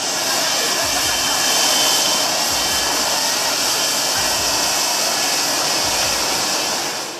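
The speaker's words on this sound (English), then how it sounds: "many tourists still ignore the danger and stand behind the running jet engine." A running aircraft jet engine roars loudly and steadily at close range, a constant rushing blast with no breaks, heard from behind the engine where tourists stand.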